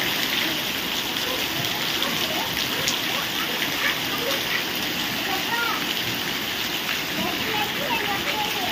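Steady, unbroken rain pours down outdoors in a village, an even wash of hissing and splattering across the whole stretch without letting up.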